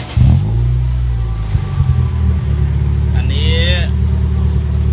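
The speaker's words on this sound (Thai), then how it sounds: "เอาติดเครื่องหน่อยครับติดเครื่องหน่อย" Motorcycle engine idling through an old VOS short two-piece exhaust pipe, a steady low rumble running throughout after a brief start, with a person speaking over it partway.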